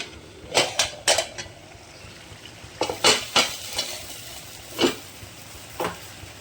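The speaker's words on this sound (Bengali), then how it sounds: "এভাবে নেড়ে আবার হালকা করে চাপা দিয়ে দেবো" Bori posto, lentil dumplings in poppy seed paste, stirred in a pan with a spatula, giving a run of distinct scraping strokes in bursts, some quick and close together, others spaced apart, over a soft bubbling background.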